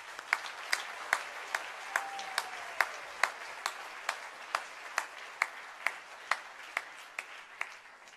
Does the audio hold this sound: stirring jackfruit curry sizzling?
no